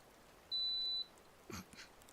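A single steady electronic beep lasting about half a second, fairly quiet, followed by a couple of faint indistinct noises.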